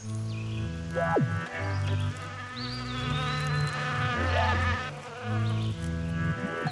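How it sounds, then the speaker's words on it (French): Parasitic flies buzzing around caterpillars, close, loud droning wingbeats whose pitch swoops and wavers as the insects circle, overlapping one another throughout. "Les mouches jettent leur dévolu sur les chenilles"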